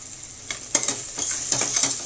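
Pulao masala stirred and sautéed in a pan for veg pulav, with a steady high sizzle and several scraping stir strokes of a spoon against the pan, close and moderately loud, no talking.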